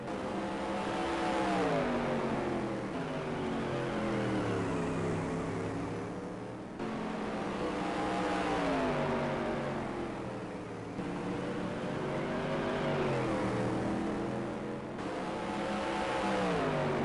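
Supermodified race cars in a sim racing game roaring past one after another in a pack, engines swelling and fading in repeated waves of rising and falling pitch, loud and continuous, with no talking.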